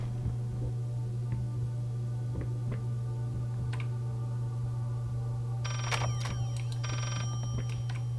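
A telephone rings from somewhere deeper inside the Layers of Fear horror game, with a short bell-like trill over a constant low electrical hum and scattered ticks.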